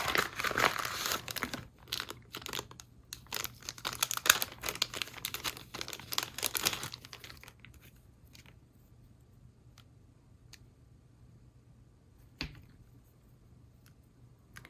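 Plastic pouch packaging around a cutting mat for a Brother Scan n Cut DX being opened, with close crinkling and tearing for several seconds that settles into a few sparse clicks.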